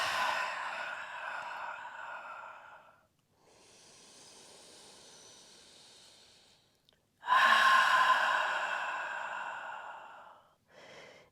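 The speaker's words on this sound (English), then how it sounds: "Exhaling, releasing tension." A person exhales slowly and audibly during a calm breathing exercise for the back, with long soft breaths in and out, close and quiet, and no talking.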